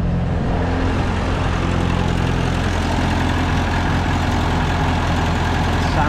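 An old Ninety truck with a bad-running engine idles roughly nearby, a loud continuous low rumble with a slightly uneven throb, heard alone without talk.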